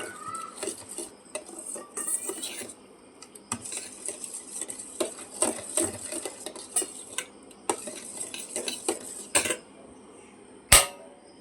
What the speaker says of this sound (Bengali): এখনও দুধ গুলাচ্ছি, দুধ গুলিয়ে ওকে খাওয়াবো